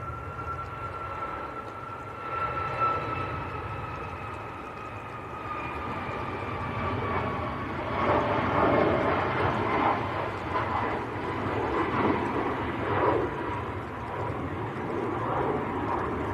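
A Ryanair airliner departs Manchester Airport for Prague, its jet engine roar building steadily with a whining tone that slowly drops in pitch, loud and continuous throughout.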